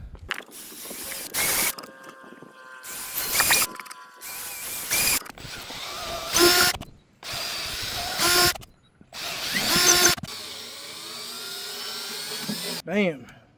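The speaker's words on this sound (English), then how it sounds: "Time to drill some holes." A power drill whirs in repeated short bursts while drilling bolt holes in plywood, spinning up and stopping several times, with some mechanical clicking and handling noise between bursts.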